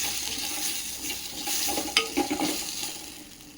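Mustard-seed tempering and chopped greens stir-fried in a pan, giving a steady frying hiss with a cluster of quick scraping and clinking strokes partway through.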